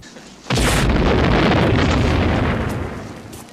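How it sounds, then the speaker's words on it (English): A grenade launcher firing fireworks in the 1987 film Nightforce sets off a sudden loud boom, followed by a sustained roaring, crackling burst that slowly fades over a few seconds. "they pull out a grenade launcher, which really just shoots fireworks"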